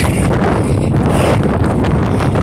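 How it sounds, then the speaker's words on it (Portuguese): Strong wind buffets the microphone in a seaside setting at Capão da Canoa, a steady loud roar and rumble filling the whole clip without pause. "Caraca, tanto vento, mano, meu bonézinho vai voar."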